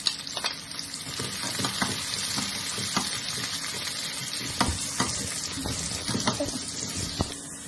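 Ginger, garlic and green chilies fry in oil with a steady close sizzle, broken by scattered clicks and scrapes of stirring; no voices.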